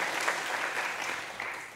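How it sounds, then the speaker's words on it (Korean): A church congregation at a Friday prayer meeting claps in steady, even applause. It is moderately loud and continues without pause for the whole moment. "성바 2부 감사함으로 우리 박수 한번 하시죠"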